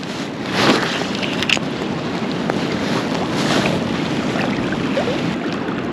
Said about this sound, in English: The wind's not doing me any favours.